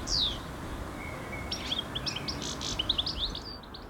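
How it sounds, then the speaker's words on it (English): A goldfinch sings outdoors: a run of bright, twittering chirps and short tweets at moderate distance over a soft background hiss, with no voices. "Goldfinch."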